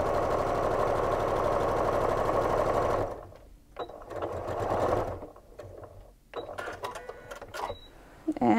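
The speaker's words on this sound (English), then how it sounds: "I'm going to start it like that, and I'm going to start sewing." A sewing machine stitches fabric scraps for a pet bed, running in a loud, continuous whirring burst for about three seconds, then stopping and starting in shorter, quieter runs with small clicks between them.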